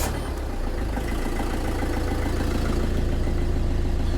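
A car engine idles in neutral while raised on ramps, with a steady, fairly loud low rumble and a slight uneven pulse that continues throughout, with no voices.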